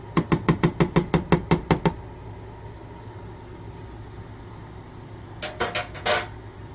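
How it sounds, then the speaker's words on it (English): Bolognese sauce stirred in a pot, a quick run of rhythmic metallic clinks of a utensil against the pot, a quiet pause, then a few more taps, close with no talk. "So we're stirring, just stirring. Stirring it all."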